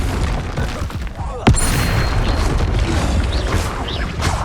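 A Confringo blast spell cast in Hogwarts Legacy lands as a sharp boom just after the first beat, then rumbling debris and a busy game battle din carry on loudly. A faint voice may sit beneath the noise.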